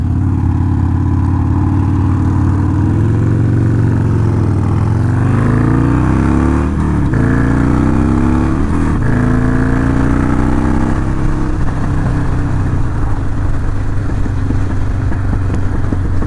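Several Harley Sportster motorcycles pull out onto a road one after another, engines rumbling loudly and revving up through rising gear changes, close by, then settling into a steady cruising drone.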